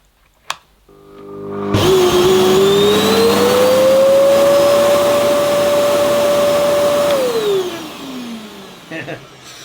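Hoover Enigma 2300-watt vacuum cleaner switching on after a brief click, its motor whining up to a steady loud pitch for several seconds, then spinning down as it is switched off, close by.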